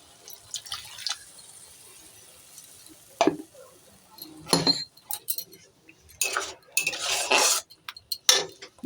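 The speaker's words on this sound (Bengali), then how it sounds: "বাটিটার গায়ে অনেক মশলা লেগে আছে তাই বাটিটাকে ধুয়ে আমি জলটা দিয়ে দেবো" A spice-coated bowl being rinsed with water in a home kitchen: scattered close clinks of the bowl, splashes and drips, growing busier toward the end with swishing water and clattering.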